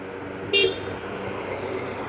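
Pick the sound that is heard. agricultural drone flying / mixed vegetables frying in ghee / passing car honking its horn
passing car honking its horn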